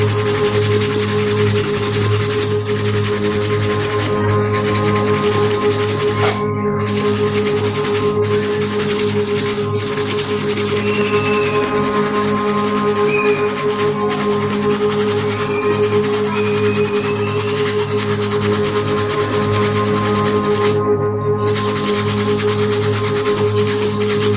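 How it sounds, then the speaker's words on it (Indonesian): Steady, loud scrubbing of an ink-stained bag lathered with Sunlight dish soap, a continuous rasping rub with brief pauses, no talking over it. "kita ulas lagi sama sunlight, lalu kita gosok lagi sobat"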